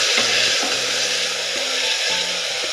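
Onion and tomato fry in a pan for vegetable kurma, giving a constant bright sizzle. Scraping strokes of a stirring spoon break in at intervals, close and fairly loud.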